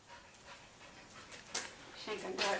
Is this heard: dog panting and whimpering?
yes